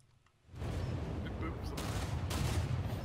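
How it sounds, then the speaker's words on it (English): Secondary 107 mm guns of the German heavy cruiser Admiral Hipper firing in the naval battles of War Thunder, a dense, sustained barrage of booming shots close and loud after a quiet start. "I don't know if you guys see my secondaries opening up. These 107 mils."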